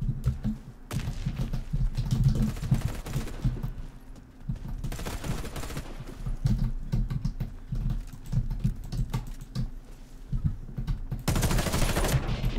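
Rapid bursts of automatic gunfire from the online shooter Warface crackle through most of the stretch, heaviest at the start, middle and end, with dense repeated shots.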